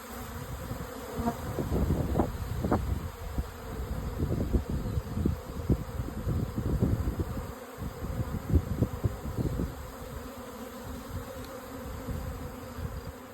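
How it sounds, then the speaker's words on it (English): A swarm of honeybees piling into a box outdoors makes a dense, steady buzzing all around, with individual bees droning loudly past up close. "There is nothing more exciting than standing in the middle of an active swarm."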